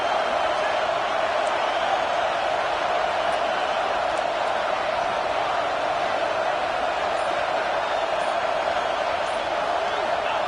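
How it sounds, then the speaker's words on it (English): Stadium crowd in the College Football 26 video game during an LSU matchup, a constant, dense roar of a large crowd with faint whoops and a few sharp thuds, steady throughout. "Listen to the crowd energy here in the early going"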